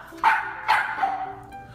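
A dog barks twice in quick succession, close and loud, followed by a brief whimpering trail indoors.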